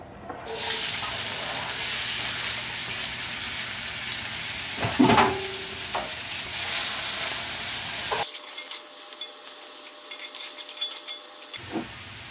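Onions dropped into a heated cast iron pan with coconut oil start a steady, close sizzle and crackle, with a brief clatter partway through before the frying continues more quietly.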